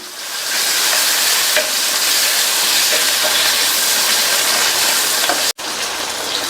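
Tomatoes with curry leaves sautéing in a hot pan for a bean pepper masala: a loud, steady sizzle and hiss runs throughout, with a brief cut near the end and no talking.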